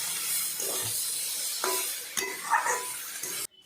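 A spoon stirs hilsa fish head with red amaranth stalks in a pan, giving soft scraping and clinking against the metal over a low sizzle, with a few sharper knocks before cutting off abruptly.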